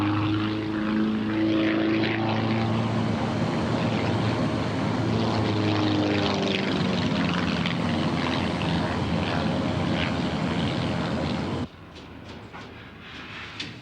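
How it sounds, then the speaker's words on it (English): A small aerobatic biplane's propeller engine drones loudly overhead in a steady, sustained roar, then drops abruptly to a quieter hum near the end. "the man up above them in the little aerobatic biplane is one of the main ones"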